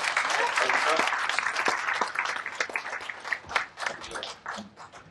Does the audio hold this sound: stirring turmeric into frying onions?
no